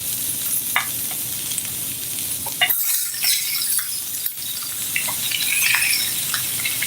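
Chopped food fries crisp in a pan like bacon bits, with a steady bright sizzle and scattered pops and light clinks, close and moderately loud, with no voices.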